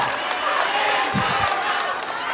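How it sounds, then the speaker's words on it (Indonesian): At an Indonesian presidential debate, the audience applauds the three presidential candidates, a dense, steady wash of crowd clapping and noise filling the hall from start to finish, with a few heavier thumps partway through. "Sekarang boleh saya kasih waktu untuk berikan tepuk tangan bagi ketiga calon presiden."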